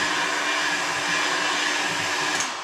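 Steady, loud blowing roar of a heat gun running continuously on the plastic fuel tank of a 1993 Honda CR125R, with a constant whine and no talking, tapering slightly at the end.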